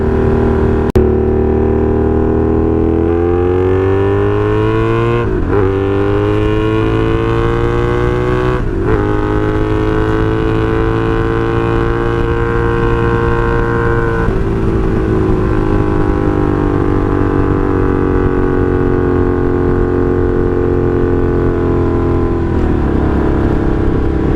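A 1982 Honda Magna V45 VF750C V4 motorcycle runs while being ridden, its loud steady engine drone rising and falling in pitch through gear and throttle changes, with wind rush and no speech.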